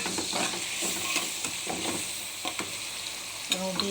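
Onion frying in a pan with garlic paste, ginger paste and garam masala, a steady close sizzle with repeated scraping stirs and a few sharper clinks near the end.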